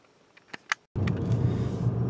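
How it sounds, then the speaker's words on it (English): Getting into a BMW 335i on new wheels and tires: a few small clicks and a door shutting, then a steady low cabin rumble from the car as it drives off. "I'm just gonna get in here, start driving"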